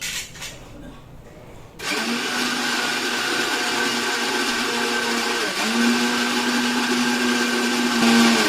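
A mixer grinder blending spice paste for a fish curry kicks in after a quiet start, then runs as a loud, steady whirring drone with a brief dip in pitch partway through, close by and without talk.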